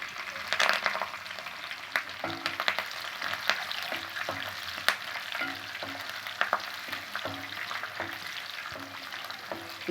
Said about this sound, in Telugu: ఫస్ట్ తాలింపులు వేసుకోవాలండి.